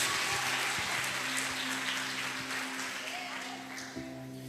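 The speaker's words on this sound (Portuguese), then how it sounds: "Você pode aplaudir a Jesus, irmão?" Church congregation applauding during a Portuguese-language sermon, a dense steady clatter of many hands that slowly thins toward the end, with faint voices mixed underneath.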